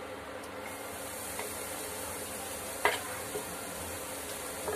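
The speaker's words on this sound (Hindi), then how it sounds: "अब इसको भी इसके साथ भून लेंगे हम" Onions frying with roasted gram flour (besan) in a pan for kachori filling, a soft, low hiss of frying with a few faint stirring scrapes, quiet and close, no voices.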